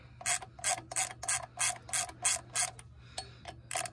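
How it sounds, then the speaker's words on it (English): Loosening flywheel bolts on a 2000 Toyota Celica GTS during a clutch install gives about ten crisp, evenly spaced ratcheting clicks, close and clear, with a brief pause before the last few. "had to use the 2-foot breaker bar to break all these loose"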